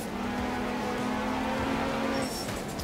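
Opel rally car engine in Art of Rally straining at a steady high drone, strained and continuous, with a brief higher whine near the end.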